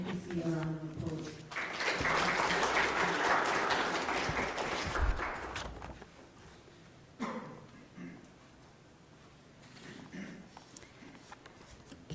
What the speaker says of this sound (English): Can you please give the Governor and the NPC a round of applause?